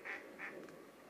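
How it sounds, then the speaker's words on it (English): Ducks quack near a winter carp-fishing spot in Shropshire, two clear nasal calls followed by a softer third, short and fairly close with no talking. "I wish them ducks had just shut"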